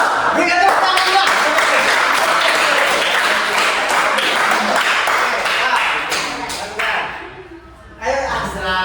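A class of students claps together during a lesson with mat exercises, a dense wash of hand claps mixed with voices talking throughout and fading briefly near the end.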